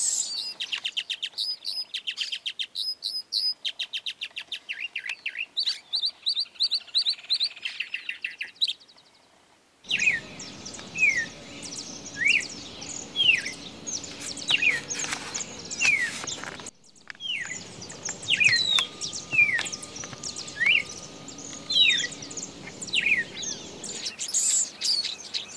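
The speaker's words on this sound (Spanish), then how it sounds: "Muchos mistos se desplazan en la tierra arada o entre los pastos formando bandadas de cientos de ejemplares." A large flock of grassland yellow finches chirps continuously across open ploughed farmland and pasture in Santa Fe, Argentina, with overlapping bright tweets and calls, close and steady, with no talking.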